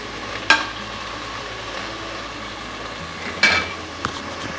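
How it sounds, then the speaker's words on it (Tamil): Tomatoes sautéing in a pan for white vegetable pulao make a quiet, steady sizzle, with two sharp metallic utensil clinks against the pan and a softer tap near the end. "நம்ம விட்டுருக்க தக்காளி வதங்கி வரட்டும்"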